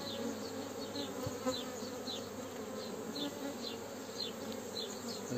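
Honeybees swarm around a hive whose frames are full of brood at peak activity, giving a steady, close, continuous buzzing hum with no voices.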